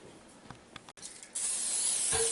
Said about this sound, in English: we're also going to apply some spray to these pans we're going to use